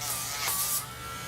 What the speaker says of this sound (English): I do trim the nails to the vein, and then if you want to now grind it down on top of that, it's extra.